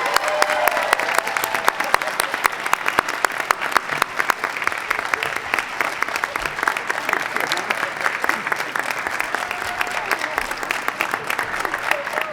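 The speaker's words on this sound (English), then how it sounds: "let's have a big round of applause for the winner of the third grade spelling bee from the Kennedy Elementary School, Ryan Ale" Sustained applause from a large audience at a third-grade spelling bee, dense steady clapping that holds at full strength throughout without letting up.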